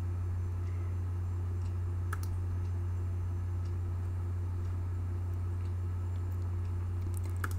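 A computer mouse gives a few sparse, faint clicks over a steady low electrical hum, with scattered single and double clicks near the start and the end.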